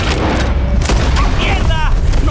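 A single sharp gunshot cracks out in Red Dead Redemption 2 amid loud booming game noise, with voices talking over and around it.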